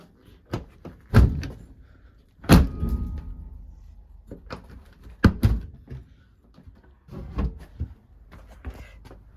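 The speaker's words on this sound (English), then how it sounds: "See if the door shuts." The door of a 1967 Volkswagen Splitscreen van thunks and slams heavily, several in a row with short gaps, close and loud, plus smaller metal clanks in between.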